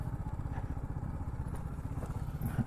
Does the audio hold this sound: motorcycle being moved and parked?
yes